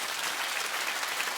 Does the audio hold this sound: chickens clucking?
no